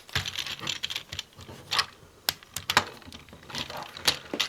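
Plastic parts of a Transformers Generations Sandstorm toy click, snap and rattle as they are folded and locked into place, a busy close run of sharp little clacks and scrapes with uneven rhythm.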